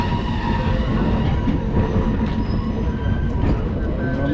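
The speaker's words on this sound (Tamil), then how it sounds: "ரயில் வந்துட்டது." A train rumbles loudly and steadily close by, heavy low roar with faint wheel squeals over it as it pulls into a station in Colombo.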